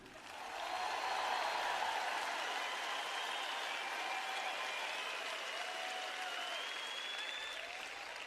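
Sustained applause from a large audience in a sermon hall, rising quickly and holding steady and loud for several seconds.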